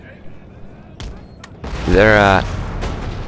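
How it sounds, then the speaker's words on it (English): Artillery fire in an Empire: Total War battle, with several sharp, distant cannon booms cracking out at irregular intervals over a low battlefield murmur, alongside a brief tonal harmonic sound in the middle. "I got my artillery set up. They've been pounding the Russians."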